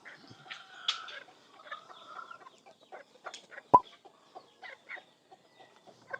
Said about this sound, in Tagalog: Ito mga manok oh.